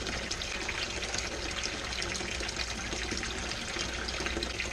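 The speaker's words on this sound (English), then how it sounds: "Water is coming out of the pump." A boat's bilge pump pushes water out through a clogged hose in a steady, continuous gushing splash, fairly close and unbroken for several seconds with no one talking.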